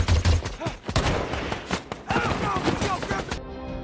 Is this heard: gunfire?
yes